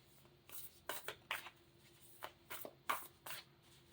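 Playing cards shuffled by hand in quick riffling bursts, several short flurries of crisp paper flutter close by with brief pauses between them.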